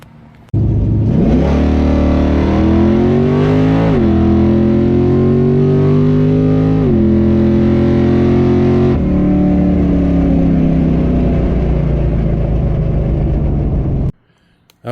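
A drag car with a Turbo Action J 9-inch torque converter launches hard and pulls through rising gears down the strip, the loud engine climbing in pitch with several shift steps before cutting off near the end.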